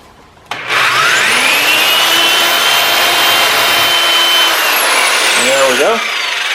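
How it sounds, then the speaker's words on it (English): A power drill bores a 5/16-inch hole for an eye bolt while repairing a Casita trailer jack handle: a loud, close, continuous whine spins up, holds for about five seconds, then winds down. "So I got to drill a 5/16 inch hole"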